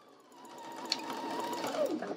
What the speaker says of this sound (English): And then we're going to carefully sew this at the 5/8 of an inch seam allowance.